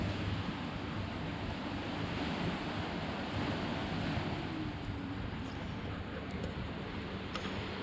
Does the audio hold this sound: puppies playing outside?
no